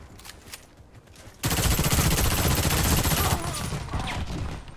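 Loud, dense bursts of shotgun fire erupt in a video game shooter after a quiet start, a heavy sustained barrage lasting a couple of seconds before easing slightly.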